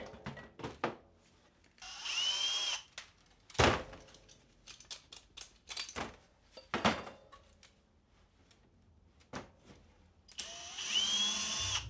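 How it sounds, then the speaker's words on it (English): A power drill backs bolts and screws out of a small scrap electric motor, several short whirring bursts broken by pauses and clinks of parts, close and fairly loud with no talk. "the bolts and screws are a simple job for the drill"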